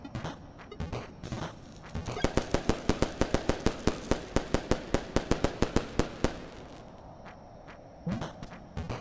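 A firecracker in the video game Animal Well goes off as a long, loud string of rapid sharp pops that crackle for several seconds, with a few scattered bangs before and after.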